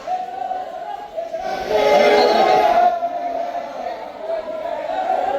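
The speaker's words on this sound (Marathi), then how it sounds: "आता आपली ट्रेन आलेली आहे" A train horn sounds with a long steady tone over the rumble of a train arriving at a station, with faint voices in the background.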